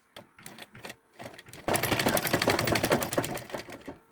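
A sewing machine stitches a Senegalese zarah cap, first in a few short bursts, then running steadily in one loud, continuous rattling pass close by.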